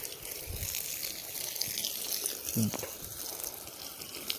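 Water from a pipe pours onto garden plants at midday, making a soft, continuous hiss and patter of flow, fairly quiet, with a couple of faint low thuds in the background.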